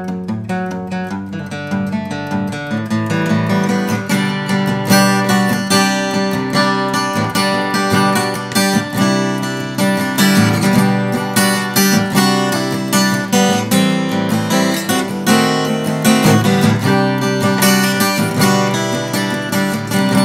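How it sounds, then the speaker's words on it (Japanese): A LAG acoustic guitar plays continuously and fairly loud, with full low-end chords and busy strumming throughout. "もう一本別のラグギターを弾いてみますと"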